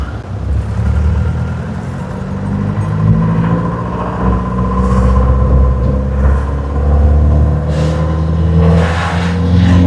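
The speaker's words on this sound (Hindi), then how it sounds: "देखो भाई गाड़ियों की लंबी लंबी कतारें, लाइनें ये बद्रीनाथ धाम गोविंद घाट के लिए लगी हुई है" Cars and other vehicles idle and creep forward in a long traffic queue on the road to Govindghat toward Badrinath, a steady loud engine rumble with occasional revving throughout.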